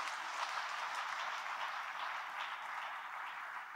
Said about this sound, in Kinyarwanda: Dukomere Imana amashyi menshi cyane.